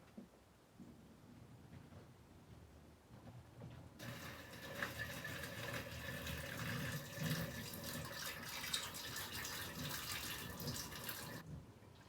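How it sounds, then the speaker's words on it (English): Water poured out of a kettle of cooked noodles in a prison kitchen, a quiet trickle swelling into a steady rushing splash into the sink before cutting off. "now we're going to empty the remaining of the water that's inside of the kettle."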